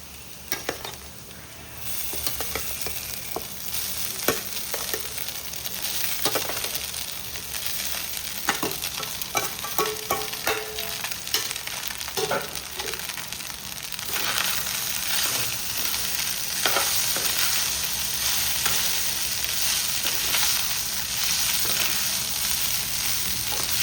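Boiled, crumbled goat blood stir-fried in a pan, a steady loud sizzle running throughout with scattered clinks and scrapes of stirring, close and continuous without talk.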